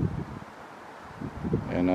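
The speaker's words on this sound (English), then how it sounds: "it's very windy" Low, gusty wind buffets the microphone in uneven bursts, rumbling and fading, with no clear speech over it.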